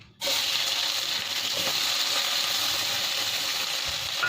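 Onion hits a hot pan in a home kitchen and breaks into a loud, steady sizzle that carries on evenly, close by with no talk.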